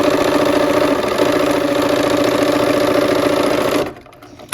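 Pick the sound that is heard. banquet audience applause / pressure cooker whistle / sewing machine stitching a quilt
sewing machine stitching a quilt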